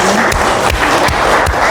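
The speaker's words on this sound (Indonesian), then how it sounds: "Pinter sekali, tepuk tangan." Students in a math classroom clap together in a short, brisk burst of applause, quick close claps repeating evenly in a rough rhythm for under two seconds.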